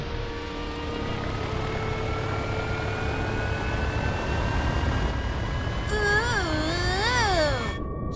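A cartoon aircraft flyover above a soccer stadium roars past as a steady engine drone with rising tones, ending in a wavering, swooping whine before it cuts off.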